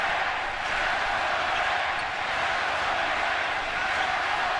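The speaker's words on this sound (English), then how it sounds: "And the crowd is awakened." A packed basketball arena crowd at a 2003 playoff game, Celtics visiting the Nets in New Jersey, swells into a steady, dense roar that holds loud and unbroken throughout.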